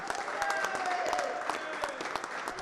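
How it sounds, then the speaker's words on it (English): A crowd applauds warmly at the closing ceremony of a Canada vs USA college all-star cricket match. Continuous clapping carries through with a few sharp individual claps and a faint whistle-like tone above it. "So big round of applause for him."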